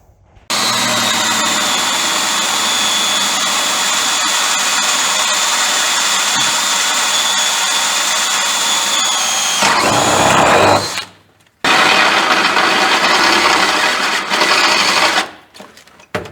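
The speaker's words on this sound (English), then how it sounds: "Let me drill this one real quick." A power drill whines steadily at high speed for about ten seconds drilling metal, bogs down briefly, stops, then runs again in another long burst. Close and loud.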